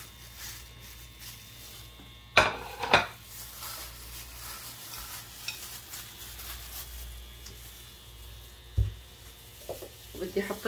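Onion frying in a pan for a sausage fatteh dish, with a steady low sizzle, a couple of sharp clatters of the ingredient going in, and a later clink of utensils, close up with brief speech-like sounds.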